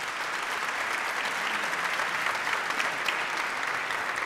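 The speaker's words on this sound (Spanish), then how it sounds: "Un aplauso para todos." A seated audience at the opening ceremony of a film festival in Valdivia gives a sustained, even round of applause, a dense wash of many hands clapping at a steady level throughout with no voices.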